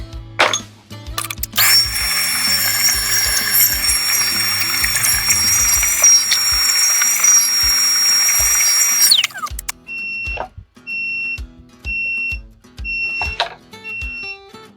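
An ultrasonic cleaner cleaning lawnmower parts gives a steady high electronic whine with a constant tone for several seconds amid clatter, then stops; short repeated beeps follow.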